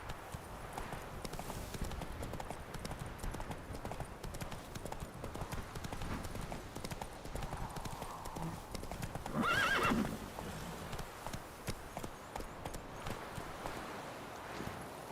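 Roach, a horse in The Witcher 3 video game, gallops with steady clip-clop hoofbeats and lets out a sharp whinny midway, with faint game ambience underneath.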